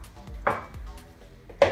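Tomatoes chopped small on a board for a low-carb wrap filling, three distinct knife strikes in a slow uneven rhythm, close and fairly loud, with nobody talking.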